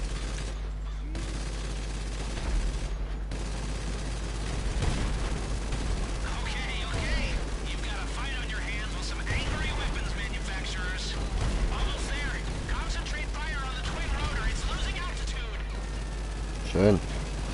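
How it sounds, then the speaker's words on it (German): Explosive sniper rounds fire in GTA 5 Online, heavy booming shots and blasts scattered across the clip amid game noise, with a few sharp transients standing out. "explosive sniper rounds"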